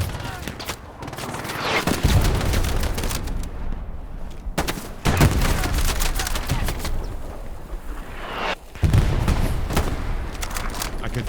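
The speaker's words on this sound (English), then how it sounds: "I've been hit by a mortar, I think" Explosions and gunfire on a World War II battlefield in Hell Let Loose: loud, close blasts and booming impacts recur every few seconds over a constant battle din, with a heavy thump near the end.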